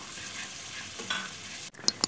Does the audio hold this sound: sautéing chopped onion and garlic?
yes